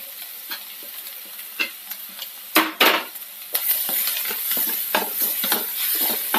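Grated coconut stir-fried with ginger, green chili and onion in a pan, with soft sizzling under repeated scraping and stirring strokes and a few sharp utensil knocks against the pan.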